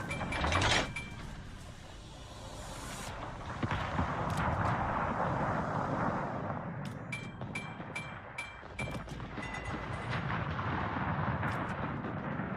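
Naval gunfire from the World of Warships video game, with a loud opening blast followed by a steady rumble of ship noise and a rapid series of sharp, clicking shots toward the end.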